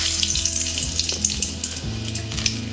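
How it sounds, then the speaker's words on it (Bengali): A bay leaf sizzles in hot oil in a pan, a loud continuous crackle and fizz with small pops throughout, while fish head curry rice is being cooked. "আমি তেজপাতাটা দিয়ে দেব"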